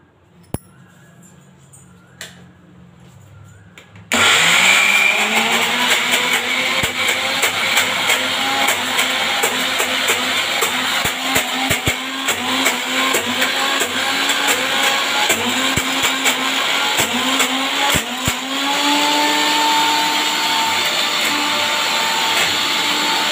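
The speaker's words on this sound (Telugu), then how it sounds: "ఒక్క చుక్క వాటర్ కూడా యాడ్ చేయకుండా మెత్తగా మిక్సీ పట్టేసుకుంటున్నాను" A kitchen mixer grinder whirs loudly and steadily as it grinds thick urad dal batter with cumin and no water. After a few quiet seconds the motor roars up and runs continuously to the end, with faint clinks.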